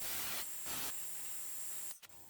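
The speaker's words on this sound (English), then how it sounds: "So here I'm hitting this with some 240 grit sandpaper" Fine 240 grit sandpaper rubbing over a wooden wand, a soft continuous hiss with a couple of brighter strokes early on, close and quiet, then a brief pause near the end.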